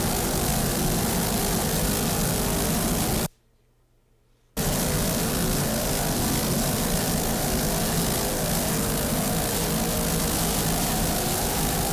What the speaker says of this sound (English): Onboard Firewater V1, powered by two 800 horsepower Stotler racing engines, 40-foot fountain.